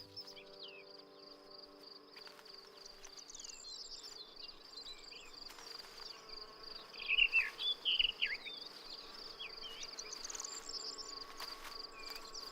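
Insects drone around spring flowers in Spain against a steady high cricket-like chirring, with a few louder buzzing passes in the middle and faint bird calls.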